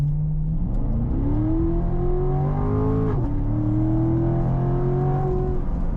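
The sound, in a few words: Corvette C7 Stingray accelerating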